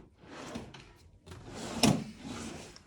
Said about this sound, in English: You have drawers that come out.